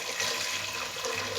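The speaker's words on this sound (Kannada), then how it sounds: "ಇವಾಗ ಸ್ವಲ್ಪ ನೀರು ಎಷ್ಟು ಬೇಕೋ ಅಷ್ಟು ಹಾಕೊಂಡ್ಬಿಡೋಣ" Water poured into a pressure cooker holding lentils for vegetable sambar, a steady close splashing and gushing stream that runs through the whole moment with no talk over it.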